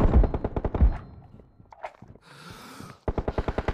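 Rapid automatic gunfire in a video game team deathmatch, two sharp close bursts of evenly spaced shots, a brief quieter gap with faint game noise, then another fast burst.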